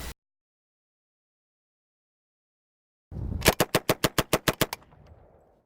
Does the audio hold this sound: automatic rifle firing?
yes